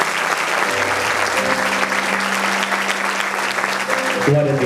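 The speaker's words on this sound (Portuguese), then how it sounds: "Aplauda o Senhor mais uma vez." A church congregation applauding during a service, sustained broad clapping with sustained organ or keyboard tones underneath and voices mixed in.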